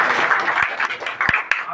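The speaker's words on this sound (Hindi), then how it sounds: "चलिए एक बार आनंद जी के लिए जोरदार ताली बजाएं।" An audience claps for Anand at a business marketing meeting, a dense burst of clapping throughout that stays loud and steady for its short length.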